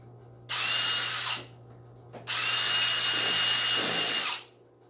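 A power drill boring a hole in plastic scooter bodywork: two loud, close whirring bursts, a short one followed by a longer one, with a steady low hum underneath.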